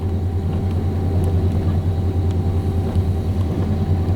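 A 1990 Chevy 1500 pickup engine with running problems idles steadily nearby. Its low, even rumble holds constant throughout, with no revving.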